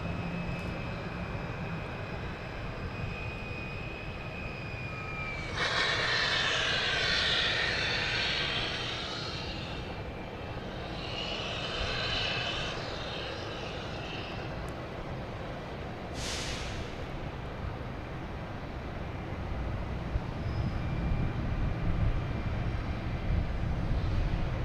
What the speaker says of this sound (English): JetBlue coming in from Jacksonville. A A220.